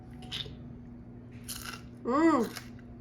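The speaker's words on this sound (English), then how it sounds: "Crunch test, yes." Crispy smelt, deep-fried in animal fat, crunches in a few short bites and chews, close and fairly quiet, with a brief voiced sound near the end.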